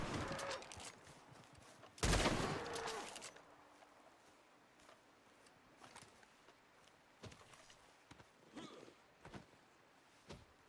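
A few gunshots in Red Dead Redemption 2 Online, one loud close blast followed by fainter scattered shots and small clicks over quiet ambience.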